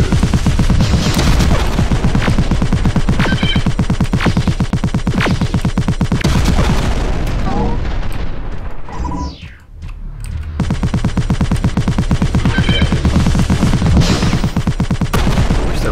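Laser turrets in the tower-defense game Armed to the Gears fire in a loud, steady stream of rapid shots, with a brief lull in the middle before the barrage resumes; no talking.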